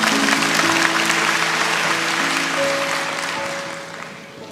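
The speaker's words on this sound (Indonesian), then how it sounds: "Kasih tepuk tangan untuk Tuhan Yesus." Church congregation applauds for Jesus during a sermon, a full even wash of clapping across the hall that holds steady and slowly fades, with faint sustained tones underneath.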